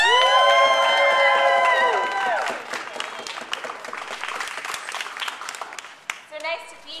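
A crowd at a street protest in Pittsburgh over Title X funding bursts into applause, cheers and whoops, dense clapping fading over several seconds, with a voice briefly rising near the end.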